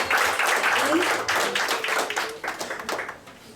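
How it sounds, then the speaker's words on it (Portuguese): Applause from a small group, steady scattered clapping for a few seconds, close by, with some voices mixed in. "Isso, vamos aplaudir."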